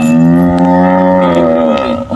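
A single loud, close cow moo, long and deep, sliding slightly in pitch before tailing off.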